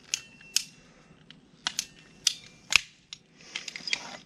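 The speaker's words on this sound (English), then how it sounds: "We'll use our pipe cutters." A pipe cutter bites through a greenhouse pipe with a series of sharp, crisp clicks and snaps at irregular intervals, close and fairly quiet, with a short rattling cluster near the end.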